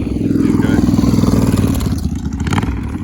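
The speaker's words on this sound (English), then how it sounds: "So they want to ride the motorcycle around." A motorcycle engine rumbles loudly nearby, a steady growl with slight revving that starts to fade toward the end.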